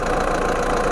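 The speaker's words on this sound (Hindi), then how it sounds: "अब हमने कर लिया इसका इंजन स्टार्ट" An old car engine runs at a steady idle right after starting, a loud continuous rumble close by with no talk over it.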